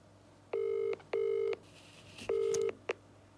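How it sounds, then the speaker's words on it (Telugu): A telephone dials out, three clear steady tone bursts with short gaps between them, followed by a brief click, close and alone against a quiet low hum. "సార్ కాల్ చేస్తున్నాను."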